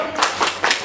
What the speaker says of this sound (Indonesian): Oke, kita kasih tepuk salut.